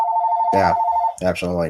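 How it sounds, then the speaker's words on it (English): A mobile phone rings with a steady, loud electronic tone that stops about a second in, overlapped by a person speaking during a talk-show conversation. "That's my phone. Somebody else will pick it up."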